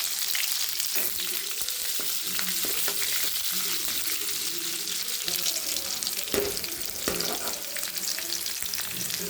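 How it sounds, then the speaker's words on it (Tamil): Mustard seeds, fenugreek, curry leaves, garlic and onion frying in hot oil for a brinjal and potato curry, with a steady, close hiss and crackle and a few brief stirring knocks. "எண்ணெய் ஊற்றிருக்கேன், கடுகு போட்டுக்கலாம், வெந்தயம் போட்டுக்கலாம். நல்லா பொரிஞ்சோடனே கருவேப்பிலையும் பூண்டையும் போட்டுக்கலாம், வெங்காயம் போட்டுக்கலாம்"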